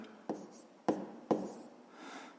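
Pen strokes on paper during a fifth-grade math division exercise: three sharp, close scratching bursts with short trailing scrapes, then a softer longer stroke, with no talk.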